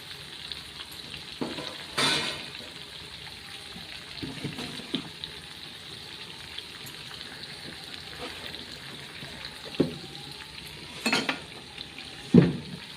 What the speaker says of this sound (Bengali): তো তার জন্য আমি পনিরটা এবারে ভাজবো।